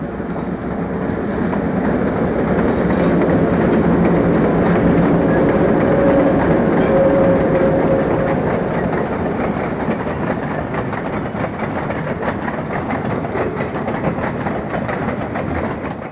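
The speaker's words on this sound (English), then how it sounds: "there's a coal train coming through Tamaqua en route to Reading" A heavy coal train rumbles past continuously through Tamaqua, Pennsylvania, with steady low roar and faint rhythmic clatter of wheels on rails throughout.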